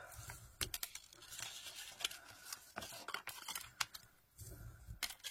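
Paper folds for a scrapbook storage pouch are pressed and creased with repeated sharp swipes and taps, close and crisp, with no one speaking.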